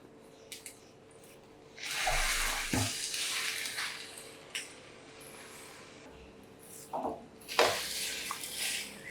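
Bread dipped and laid in a frying pan with ghee gives off soft hissing sizzles and bursts of spray-like frying, rising and fading in waves between quieter stretches.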